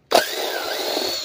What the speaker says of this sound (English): Some drill time.